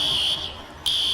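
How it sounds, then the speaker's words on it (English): A smoke alarm in the EmergeNYC video game gives a piercing, steady high-pitched beep that cuts out briefly and then starts again, loud and alone. "So we got a smoke alarm going off"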